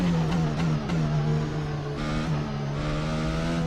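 A Formula 1 car in a racing video game of the 2022 Emilia-Romagna Grand Prix at Imola brakes into the first corner and accelerates out, its high engine whine dropping then climbing again, loud and continuous.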